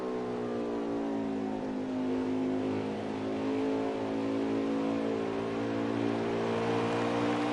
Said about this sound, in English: Just listen to his throttle movement, or throttle usage here going into 3.